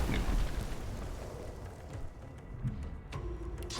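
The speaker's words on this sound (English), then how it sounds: "More explosions." Explosions in the video game Divinity: Original Sin open with a heavy, booming blast, followed by a fainter rumbling tail and a couple of softer bursts later on. No one speaks.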